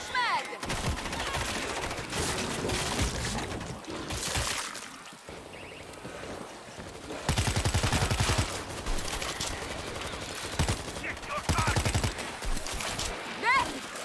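Rapid gunfire bursts and fusillades from the video game World War Z, loud and dense through much of the span with brief lulls, mixed with game effects and occasional shouted player voices.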